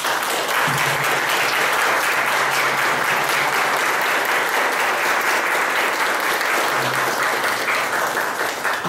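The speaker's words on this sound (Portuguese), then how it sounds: "com uma calorosa salva de palmas" Loud, continuous applause from a church congregation welcomes parents and godparents at a first communion Mass in Mato Alto, dense clapping filling the space for several seconds with a faint low hum underneath.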